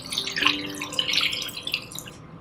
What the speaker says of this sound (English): we're going to add some water in the pan.